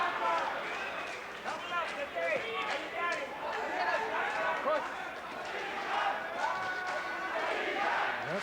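A boxing arena crowd in the Dickie Ryan vs Vitali Klitschko fight roars and cheers steadily in the background while a commentator talks over it.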